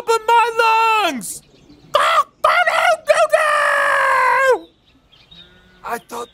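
A person imitates a rooster, crowing loudly at the top of their lungs in long, drawn-out cock-a-doodle-doo calls, with short breaks and brief spoken bits between them.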